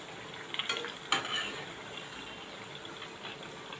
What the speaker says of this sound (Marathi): आता ह्या साईडने पण व्यवस्थित फ्राय करून घेणार आहे मीडियम गॅसवर फ्राय करणार आहे